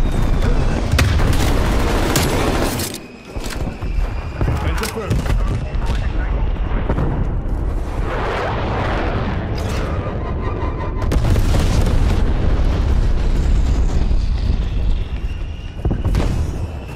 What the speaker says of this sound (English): Throwing Molotov.